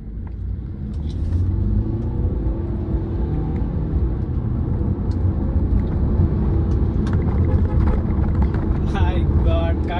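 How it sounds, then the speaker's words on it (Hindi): A used BMW car in sport mode accelerates hard, its engine a loud, sustained low roar with steady road rumble throughout, while someone talks over it. "तो अभी मैं दिखाता हूँ गाड़ी कैसे जाती है, जस्ट हैव ए लुक। देखो मैं अभी स्पोर्ट्स मोड में डाला हूँ"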